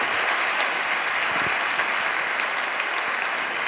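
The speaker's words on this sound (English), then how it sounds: "I think we can applaud you." A conference audience applauds after a presentation of the Catalonia BioRegion report, steady, dense clapping that fills the room at even loudness for a few seconds with no voices over it.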